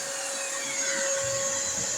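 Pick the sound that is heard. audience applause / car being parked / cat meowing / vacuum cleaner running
vacuum cleaner running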